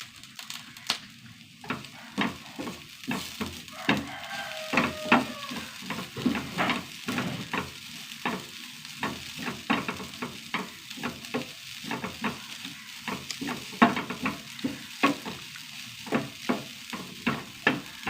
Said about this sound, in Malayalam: നന്നായി വറുത്തെടുക്കട്ടെ ചെറു തീയിലിട്ടിട്ട്